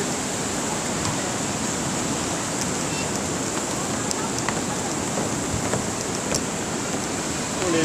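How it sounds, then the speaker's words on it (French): A steady, loud wash of ocean surf at Réunion roars without pause, a dense hiss of breaking water filling the whole stretch with only small flickers on top. "Oh, les vagues."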